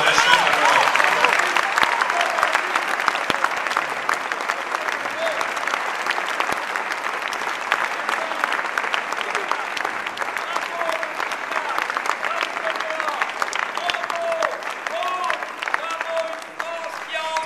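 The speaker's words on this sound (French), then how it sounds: "je pense qu'on peut applaudir aussi notre parrain" Sustained applause from a crowd at the Hospices de Beaune wine charity auction, honouring the sponsor, actor Fabrice Luchini; dense, steady clapping fills the room throughout with faint voices mixed beneath.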